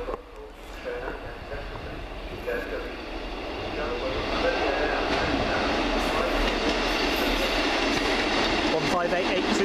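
A passenger train rumbles through Rhyl station, its noise gradually growing louder and steadier, with faint squeals and a brief murmur of voices in the background.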